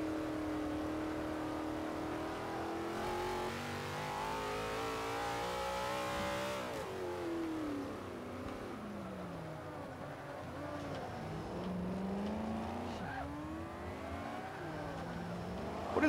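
Race car engines rev and whine in the Forza 5 racing game, with an Audi among the cars, rising and falling in pitch through gear shifts and overlapping as cars pass, steady and continuous.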